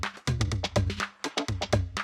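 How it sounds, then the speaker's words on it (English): A house music percussion loop from a sample pack plays alone, a groovy, punchy pattern of evenly spaced hits with a steady low pulse running underneath. "I've taken this percussion loop from my sample pack"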